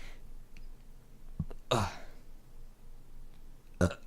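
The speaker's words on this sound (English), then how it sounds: "when you drink water, burping happens right in the middle of doing a VO" A short burp from a voice-over performer who has just been drinking water, a low guttural belch around the middle and another brief one near the end, close and alone in a quiet room.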